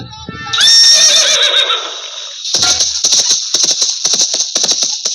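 A horse neighs loudly in a nautanki folk stage play about a dacoit, a long rising whinny followed by a quick run of galloping hoofbeats, all close and prominent.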